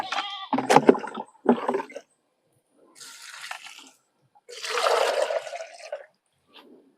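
Water poured out from a container while watering newly planted squash, with two short splashing bursts after some brief sounds at the start, fairly close and without talk.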